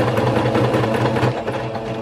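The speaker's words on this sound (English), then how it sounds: "So I start sewing through the strap." A sewing machine stitches slowly through a layered fabric strap on a homemade onesie outfit, a steady close whirring hum with a fast mechanical rhythm running continuously, no talking.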